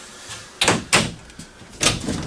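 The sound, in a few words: storage drawers pulled out in a motorhome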